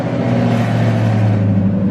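2015 Ford Mustang GT engine rumbling close by, a loud, steady deep drone with a faint slow pulse, no voices.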